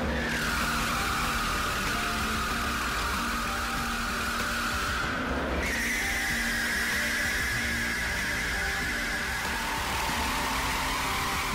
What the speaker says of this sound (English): This uniquely devilish device reproduces every possible force and condition the Veyron tire would face on the road or the track.